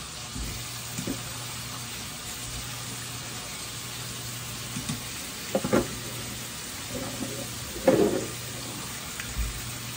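Food sautéing in a frying pan, a soft continuous sizzle with a few stirring clinks and scrapes, fairly quiet and with no talking.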